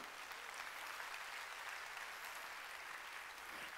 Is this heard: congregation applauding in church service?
yes